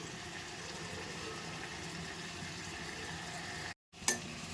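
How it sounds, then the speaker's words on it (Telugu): Spices being stirred into food frying in a pan, a steady soft sizzle with faint scraping, quiet and continuous before a brief silence and a small clatter at the end. "ఈ స్పైసెస్ అన్నీ వేసుకున్న తర్వాత ఈ విధంగా బాగా కలుపుకోవాలి"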